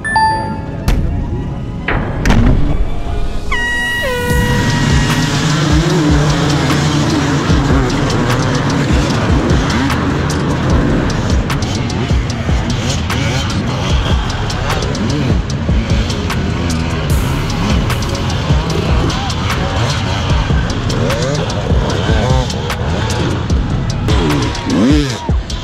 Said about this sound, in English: Dirt bike, dirt bike.